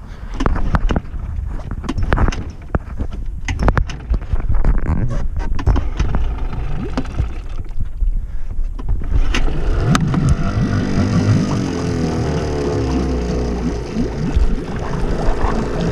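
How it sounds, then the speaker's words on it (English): A small boat motor runs at idle to warm up, rumbling steadily and loudly close by under wind buffeting, with a brief rise in revs partway through. "And then I bring the throttle down just to let it idle and warm up."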